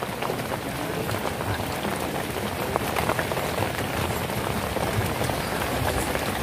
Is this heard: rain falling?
yes